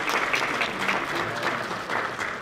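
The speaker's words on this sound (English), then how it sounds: "Can we get a round of applause?" Applause from the audience at a community town hall, a steady dense wash of clapping hands filling the room throughout, with faint voices mixed underneath.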